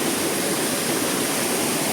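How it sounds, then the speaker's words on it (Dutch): Waterfall at Tetebatu on Lombok, Indonesia, heard from the top of the falls: a loud, constant broadband roar of rushing water with no pauses and no voices. "Ik sta hier bovenop de waterval."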